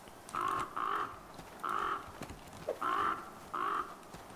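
Crows caw in the video game The Flame in the Flood, about six harsh, evenly spaced calls in pairs and singles, moderately close over a quiet ambient background.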